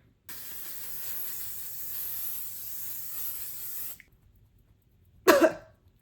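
A long aerosol spray of L'Oreal Infallible makeup setting spray hisses steadily for several seconds, then stops; after a short silence, someone coughs sharply.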